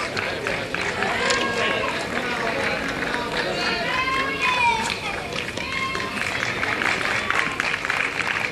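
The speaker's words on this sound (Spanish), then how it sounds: "Esas palmas son gratis" An audience applauds steadily at a half marathon trophy ceremony in Chipiona, a dense, continuous patter of many hands mixed with crowd chatter and voices throughout.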